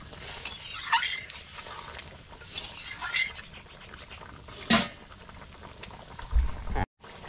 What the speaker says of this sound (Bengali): এই দেখুন আমার তরকারিটা ফুটছে কীভাবে, দেখতে পাচ্ছ?